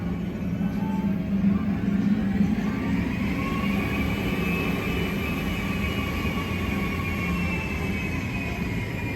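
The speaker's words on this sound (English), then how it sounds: "we're treated to a blast from those Pratt & Whitney engines" A Boeing 757-200's Pratt & Whitney jet engines roar steadily close by, a low rumbling drone with a rising whine layered on top, continuous and loud with no voices.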